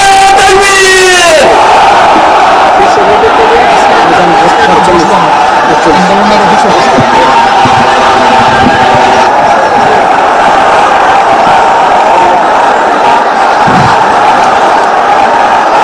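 A huge rally crowd at Paltan crossroads roars a chanted slogan response in unison, loud and sustained like a massed battle cry, following a lead shout at the start.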